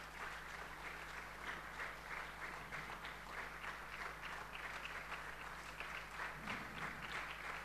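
Steady applause from a church congregation clapping their hands together during a Sunday service, a dense continuous patter of many palms at moderate, even level throughout.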